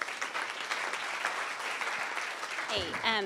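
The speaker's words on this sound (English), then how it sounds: "give a big round of applause to all 3 of those people" Audience applause fills a convention-style event hall, steady clapping throughout, with a voice breaking in near the end.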